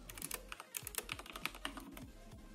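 Short bursts of close, quiet key clicks as commands are typed on a computer keyboard, irregular taps with small gaps between them.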